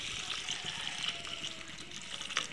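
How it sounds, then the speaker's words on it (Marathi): A glass of water poured into cowpea pod bhaji in a kadhai gives a faint, continuous watery rush for a couple of seconds with no voices. "एक गिलास पाणी टाकायचं."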